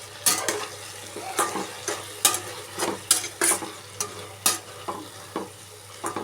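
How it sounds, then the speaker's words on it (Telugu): Tomatoes fry in a pan with a steady sizzle, broken by a dozen or so rhythmic scrapes and taps of a spoon stirring, close and clear with no talking. "ఇప్పుడు టమాటాలు బాగా మగ్గేలుగా వేసి"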